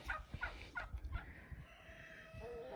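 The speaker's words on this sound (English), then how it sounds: "Look at that rooster." A rooster crows faintly in a snowy winter chicken yard during subzero cold, with soft clucking and muffled rustling nearby.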